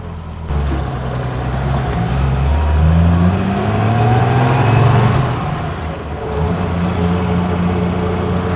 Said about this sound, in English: you can hear the sounds. It sounds like a very old car